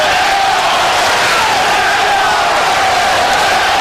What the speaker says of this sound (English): the crowd at ringside chanting, Zeljko, Zeljko